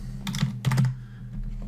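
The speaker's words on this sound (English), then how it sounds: "Pardon my typing." Quick bursts of clicking keys on a computer keyboard, typed in two short clusters followed by a few lighter taps, close up and without any voice.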